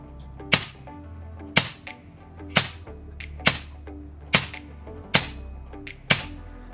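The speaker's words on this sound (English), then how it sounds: "Now let's see if the magazine is going to cycle through all 8 shots." Air rifle firing an 8-shot magazine, seven sharp cracks spaced about a second apart, each followed by a brief metallic ring, clear and close with no talking.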